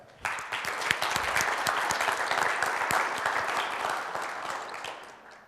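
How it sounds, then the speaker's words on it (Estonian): Sustained audience applause at a logistics and furniture-manufacturing presentation, many hands clapping steadily for about five seconds after a sharp onset, dense and even, gradually easing toward the end with no talk over it. "Suur aplaus nendele."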